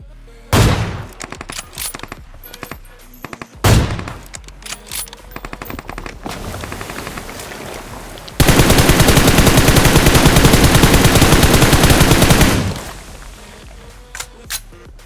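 Gunfire in the BGMI fusion mode video game: loud single shots and short bursts, then a long sustained automatic burst lasting several seconds, followed by a few scattered shots.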